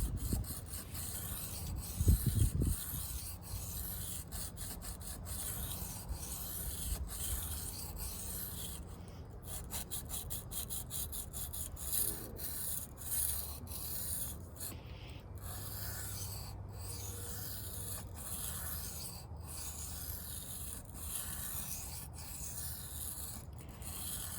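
Kershaw Trace knife blade drawn across a low-grit sharpening stone, a long series of steady, rhythmic scraping strokes, close and moderately loud, with no talking.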